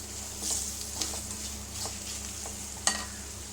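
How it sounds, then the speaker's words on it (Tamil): Chili and coriander powder sauté in oil over a low flame for a rice and lentil lunch, giving a faint, steady sizzle broken by a few light scraping stir strokes and one sharp clink. "இது எண்ணெயிலே கொஞ்சம் நல்லா வதக்கி விட்டுக்கலாம்"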